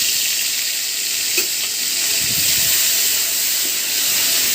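Spice paste frying hard in hot oil for a stalk and prawn curry, a dense steady sizzle and hiss with a few soft stirring scrapes, close up.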